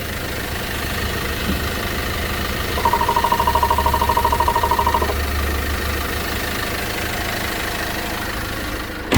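An Opel Movano L1H van's diesel engine idles steadily with a low rumble, joined midway by a brief rhythmic ticking hum before settling back to a constant idle.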